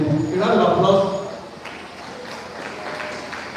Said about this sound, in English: please come to the table. A round of applause.